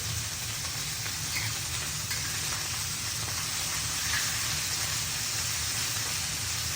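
Pepper steak sears in a hot pan, a steady loud sizzle and crackle of fat frying that carries on unbroken with no talking.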